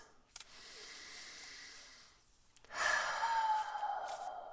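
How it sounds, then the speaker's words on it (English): Two deep breaths taken close to the microphone: a long airy inhale and exhale, a brief pause, then a second louder and fuller breath with a hissing release. "So let's just take a couple deep breaths."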